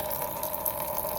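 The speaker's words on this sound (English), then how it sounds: "undo that, and then your coolant will start running out" Coolant drains from a Holden VE/VF Commodore SS radiator in a steady, continuous trickling rush, faint and even, with no voices.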